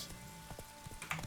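Hooves of a horse clip-clopping in the video game The Witcher 3, a few soft, fairly faint irregular thuds over a low ambient background.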